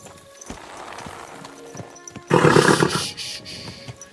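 A horse in Kingdom Come Deliverance 2 clops along in the background, then lets out a loud, rough snort or whinny that lasts under a second before easing back to soft hoof sounds.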